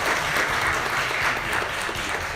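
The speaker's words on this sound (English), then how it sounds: "another warm round of applause for our speakers today." An audience at a livestreamed panel talk on mental health gives its speakers a warm round of applause: dense, even clapping from a crowd that holds steady throughout.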